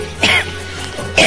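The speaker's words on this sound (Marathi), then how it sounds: "खोकला लागलाय." A person coughs twice at close range, a harsh cough followed by a second one just over a second later, with a low steady hum behind them.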